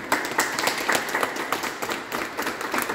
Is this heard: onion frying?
no